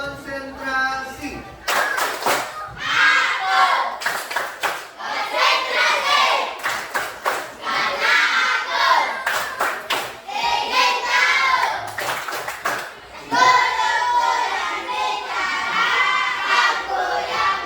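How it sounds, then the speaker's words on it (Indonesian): A school class performs the 'tepuk konsentrasi' concentration clapping routine, sharp bursts of hand claps in a patterned rhythm alternating with children chanting together in a classroom. "Silakan tepuk konsentrasi."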